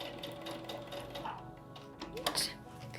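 A sewing machine stitches and back tacks a fabric eye mask, its quick close motor whirr running steadily and shifting briefly near the end as it reverses, with light handling noise.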